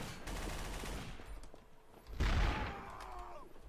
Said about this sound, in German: Ja, was schießt du auf mich?